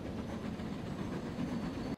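A train running in the Transport Fever video game gives a steady, continuous rumbling rail roll with faint clickety-clack, moderately quiet and without speech.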